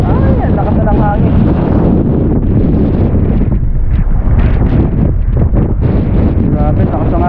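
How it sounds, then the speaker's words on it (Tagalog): Strong wind buffets the microphone outdoors beside a water channel during net fishing, a loud continuous roaring rumble throughout, with voices faintly audible underneath. "Grabe, lakas ng hangin guys oh."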